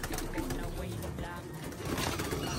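Tippler pigeons coo softly in low repeated throaty calls close by, partly under someone talking.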